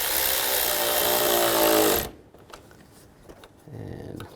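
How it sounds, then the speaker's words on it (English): A power tool whirs loudly for about two seconds while tightening a worm clamp on a radiator hose of a 2011–2014 Chrysler 200, then stops abruptly, followed by quieter clicks and a faint hum. "We'll tighten this worm clamp down."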